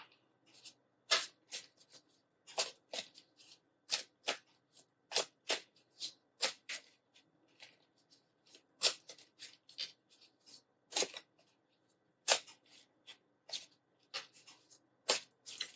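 Tarot cards being shuffled by hand, crisp papery riffles and slaps in quick irregular bursts, close and fairly quiet, continuing steadily with no talk.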